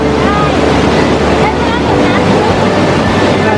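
Loud, steady rush of a flowing waterfall at a Thai national park, a dense continuous roar close to the microphone with wind buffeting.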